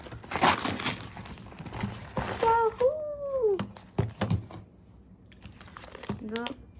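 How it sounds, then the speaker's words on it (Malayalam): An agitated cat meows a few times in the background, with drawn-out rising and falling cries, while crinkling packaging from an unboxing rustles close by. "അതാണ് ഈ പൂച്ചയുടെ ശബ്ദമൊക്കെ കേൾക്കുന്നത്."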